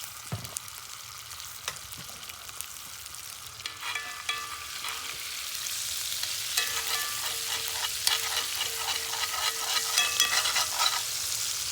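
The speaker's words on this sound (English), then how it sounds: "I'm going to stir that up." Garlic paste sizzles in a frying pan on a winter camping stove, with clinking, scraping stirs over a steady fry that swells louder toward the end.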